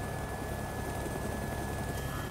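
Helicopter rotor noise inside the DayZ game on the Fallujah map, a steady broadband whir with a thin high tone holding throughout, close and constant with no talk over it.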